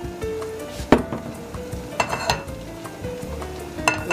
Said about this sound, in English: Let's get the oil in there.